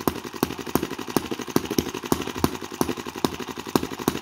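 A small vintage-style four-stroke sideshaft model gas engine runs close by, firing in sharp, evenly spaced pops about twice a second over a constant mechanical clatter.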